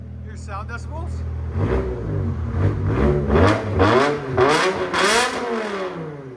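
A BMW M5's 500hp 5.0L V10 on straight pipes idles for a moment, then fires off a rapid series of loud throttle blips that rise and fall close by.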